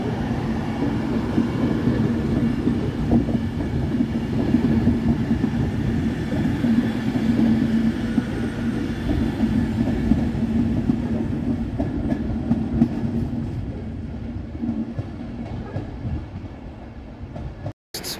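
An 11-coach Class 390 Pendolino electric train, 390131 City of Liverpool, passing on the line from Glasgow Central to London Euston, a loud steady rumble with rail clatter that continues throughout, then cuts off abruptly at the end.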